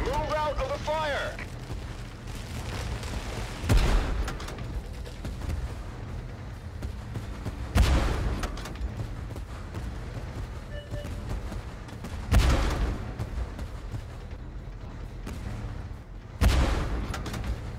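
Tank cannon fire in the Tank Force video game: four heavy booms spaced a few seconds apart over a continuous low engine rumble, with a voice shouting near the start.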